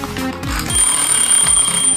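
A toy or novelty telephone rings with a bright, continuous electronic bell tone, steady and fairly loud for two seconds, with no one speaking over it.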